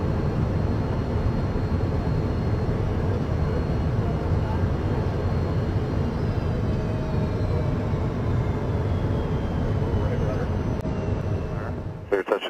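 Steady, loud cockpit drone of a Citation jet during a touch-and-go landing on the runway, a dense low rumble with a faint high whine running unbroken from start to finish before a brief clatter at the very end.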